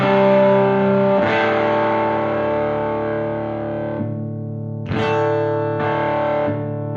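Electric guitar through a Logic Pro boost pedal with its drive knob at zero, still sounding fairly heavy and distorted, with sustained ringing chords struck a few times and no talking.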